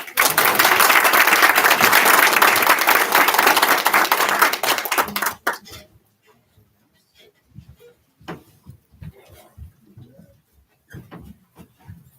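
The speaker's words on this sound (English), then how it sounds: "let's give everybody a round of applause." Audience applause fills a school board meeting room, a dense steady round of clapping for about five seconds that stops abruptly, followed by scattered faint taps and quiet voices.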